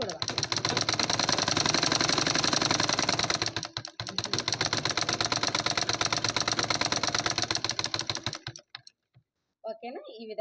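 A sewing machine stitches a cotton blouse lining, running in a fast, steady mechanical rattle for about eight seconds, pausing once briefly, then stopping near the end and leaving near silence.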